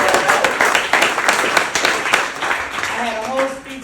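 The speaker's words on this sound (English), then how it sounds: "Give yourself an applause for being here." Audience applause at an evening "Good Trouble" rally in Ellenville, NY, a dense burst of many hands clapping, steady and fairly loud throughout, with some voices and cheers mixed in near the end.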